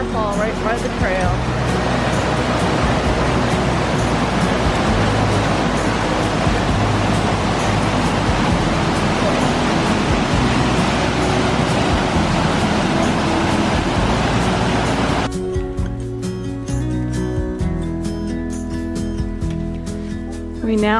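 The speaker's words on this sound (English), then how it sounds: "Little waterfall right by the trail." A small waterfall beside a trail near Landslide Lake rushes steadily nearby with a broad, constant hiss of falling water, shifting character toward the end.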